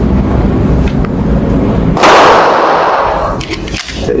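.45 caliber 1911 pistol fires a single shot at a steel target, a sharp loud blast with a short echoing decay midway through, following a steady rumble of background noise.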